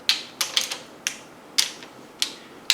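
Ratchet snugging down cylinder head bolts on a 383 engine during a rebuild: six short, sharp clicking bursts at irregular intervals, close and moderately loud with no talk.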